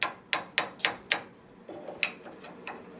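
Five quick, sharp hammer strikes ring out in a steady rhythm, followed by a pause and a few lighter, scattered taps, during a tube front end build on a Mazda RX-7 drift car.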